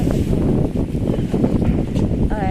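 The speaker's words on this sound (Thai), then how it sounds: "ลมมา" Strong gusting wind ahead of a storm rushes and roars continuously across the microphone, a loud broad buffeting noise with no clear pauses.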